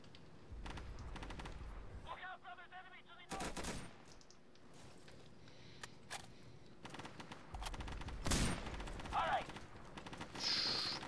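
Gunfire in the video game Insurgency, in a town map: scattered single shots and short automatic bursts, some sharp and close, others more distant, with quiet gaps and faint mechanical clicks between them.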